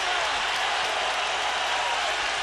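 A boxing arena crowd, at the Chris John vs Rocky Juarez fight, cheers in a dense, continuous roar that stays loud and even throughout, with no clear voice above it.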